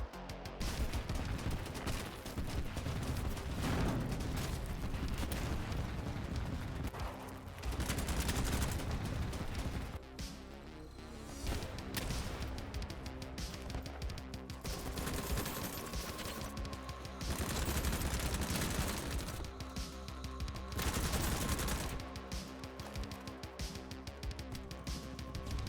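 Groza rifle gunfire in Battlebit Remastered, a dense run of rapid automatic bursts and overlapping shots, loud and close throughout with brief lulls between volleys.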